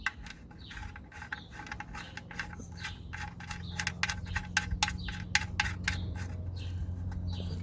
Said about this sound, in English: Okay, so just gonna tighten it.